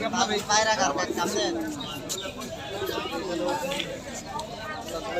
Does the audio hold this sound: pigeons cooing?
yes